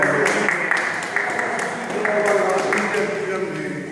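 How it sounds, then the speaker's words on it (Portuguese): Audience applause in a Brazilian stadium setting, a dense steady patter of many hands clapping, with voices and crowd murmur mixed in throughout. "Um aplauso."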